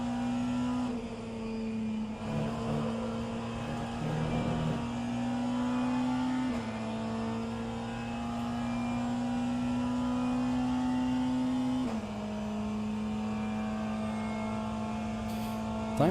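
Race car engines roar in the rFactor2 endurance race, a continuous loud drone holding steady pitch with a couple of shifts downward and some brief rattling bursts, no talk over it.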